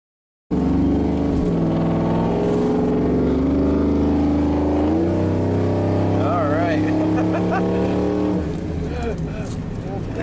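A GMC truck engine with a misfire and stalling fault runs loud and close, climbing through a sustained rev before settling back down, with voices talking over it.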